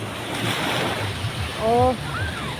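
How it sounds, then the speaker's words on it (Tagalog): Strong sea waves surge and wash around a boat out at sea off Dagupan, a broad rushing noise with wind buffeting the microphone and a brief voice cutting in near the end. "Ay, lakas ng alon."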